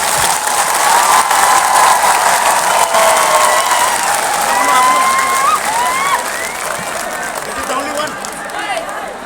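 Loud audience applause at a public event, dense clapping and crowd noise with shouts and whistles mixed in, slowly thinning out toward the end.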